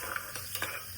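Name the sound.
cumin seeds frying in ghee for jeera rice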